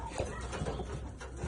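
Homer racing pigeons in a loft give soft, low, repeated coos and rustle close by with steady background murmur.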